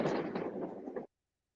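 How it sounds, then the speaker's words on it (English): New Year's Eve fireworks go off outdoors in a dense, rumbling burst of crackles and pops lasting about a second, then cutting abruptly to silence. "I've come out to show the fireworks."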